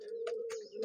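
A male pigeon coos close by in a low, continuous throaty hum, with brief louder bursts of cooing and rustling scattered through it.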